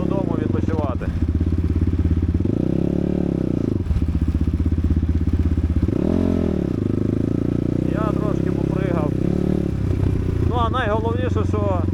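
Geon GNS300 and CFmoto X8 dirt bikes ride through an enduro park quarry, the engine droning steadily and rising and falling in pitch as they rev. Voices shout over the engine noise near the end.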